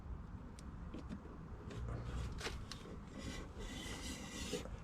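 A front brake disc rubs against its pad with a steady, close scraping drag, joined by a few brief sharper rasping bursts; no voices.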